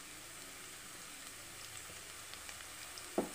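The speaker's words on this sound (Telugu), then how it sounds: "మనకి లైట్ గోల్డెన్ కలర్ వచ్చే వరకు ఆనియన్ని ఆయిల్లో ఫ్రై చేద్దామండి." Onions fry in oil until light golden for mutton keema curry, giving a faint, steady crackling sizzle throughout, with a couple of louder clatters near the end.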